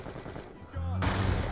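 Pistol gunfire in Call of Duty: a short, loud burst of shots breaks in near the end over a muffled game-sound background.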